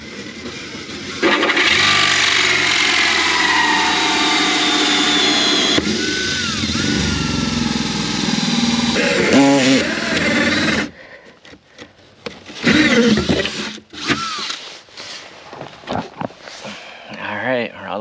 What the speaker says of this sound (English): we'll use a 2-inch hole saw to go through this